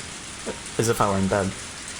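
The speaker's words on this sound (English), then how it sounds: "I listened to the soothing sounds of raindrops hitting the scrap iron and the trash heaps." Rain falling on scrap iron and trash heaps in the visual novel Higurashi When They Cry: a soft, steady patter of raindrops throughout, with a brief voiced sound rising in the middle.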